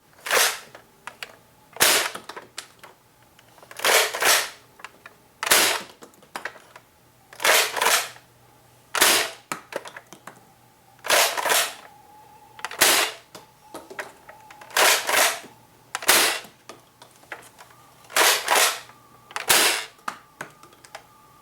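A modified Nerf Longstrike blaster fires darts again and again, each shot a sharp close pop with a priming clack, repeating at a steady pace of about one every two seconds.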